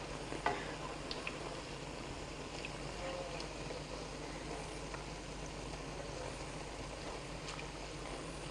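Corn fritters fry in hot oil with a continuous soft sizzle and bubbling, a few light clinks of a utensil as pieces are lifted out, heard quietly and up close with no talking.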